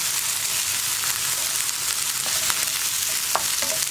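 Tomato goes into a hot, sizzling pan for sambar with okra, a dense steady frying hiss broken by a few sharp clicks of stirring near the end.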